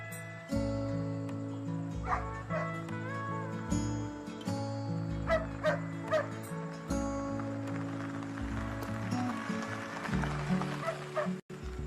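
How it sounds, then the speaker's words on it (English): A dog barks repeatedly in short bursts and whimpers between them, close and clear over a steady layer of low film score music. "Mary Jo, call off the dog."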